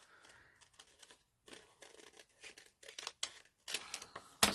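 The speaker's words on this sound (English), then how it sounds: "when you're fussy cutting, remember, move your paper, not your scissors" Scissors snip paper during fussy cutting for a Grinch-themed journal, a run of crisp close cuts and rustles that grow denser and louder toward the end.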